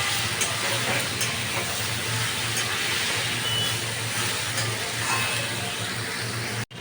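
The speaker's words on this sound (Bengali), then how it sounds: "এবার এটাকে আমি ভালো করে ভাজতে থাকবো।" Potato, papaya and soybean curry frying in a pan gives a steady, close, even sizzle and hiss that runs unbroken for the whole stretch, with no voices.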